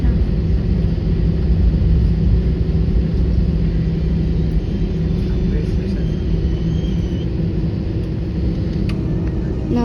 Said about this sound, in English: Now we're taking off.